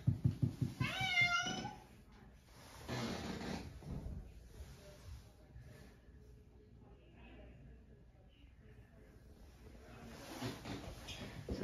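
Cats at the vet meow, a sharp rising cry near the start followed by quieter rustling and faint meows, recorded fairly low in a room with little talk.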